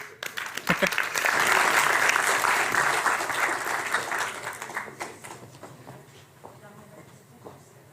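Applause from a symposium audience on cooperative societies swells quickly, stays loud and dense for several seconds, then thins out into scattered claps as the room settles.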